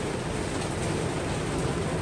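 Heavy monsoon downpour in the Konkan region, a dense, steady hiss of rain that stays loud and even throughout with no breaks.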